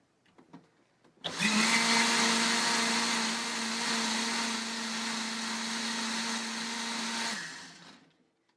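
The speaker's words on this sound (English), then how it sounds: "I'm going to add in a little bit, blend it again, and this should be our great sun-dried tomato dressing." A kitchen blender purees a sun-dried tomato salad dressing with garlic and a splash of water, giving a loud, steady whirring roar that starts abruptly, runs for about six seconds close up, and then winds down.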